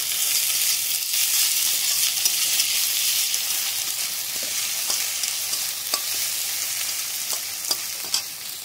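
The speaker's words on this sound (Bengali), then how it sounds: "এবার আমি টমেটোটা দিয়ে দিচ্ছি, টমেটোটাও ভালো করে ভেজে নেবো।" Tomato sizzles in a pan with ginger and garlic, a steady close hiss of frying with occasional crackles and stirring clicks, no talk.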